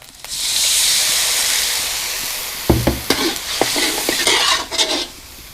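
A loud, steady sizzle of Thai curry paste frying in hot oil in a pan, joined partway through by scraping and clinks of a utensil stirring the pan.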